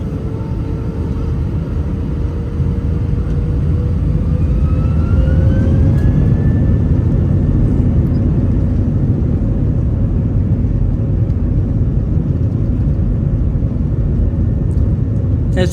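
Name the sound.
Lufthansa airliner jet departing, taking off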